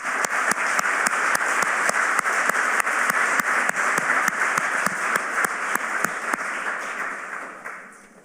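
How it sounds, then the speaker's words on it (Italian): Sustained audience applause at an academic year inauguration ceremony, dense and steady clapping with a few sharper individual claps, tapering off near the end. "Ti faccio adesso il mio applauso."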